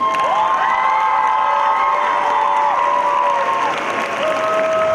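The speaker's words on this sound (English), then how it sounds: "may we please have another round of applause for our singers and our crew" A theater audience applauds and cheers at a curtain call, a dense, steady wash of clapping with whoops and shouts layered over it, loud and sustained throughout.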